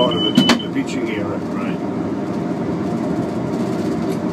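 A passenger train crossing the Tay Bridge over its high girders gives a steady, rumbling interior drone, with a few sharp rattles and clanks early on and voices talking over it.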